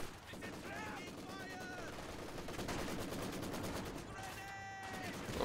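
Machine gun fire crackles through a video game match, steady rapid bursts mixed with other battle effects and overlapping game sounds at a constant level.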